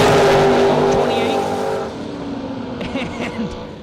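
A drag race car's engine roars loudly, holding a high rev before the pitch drops away as it pulls off; a commentator talks over the noise.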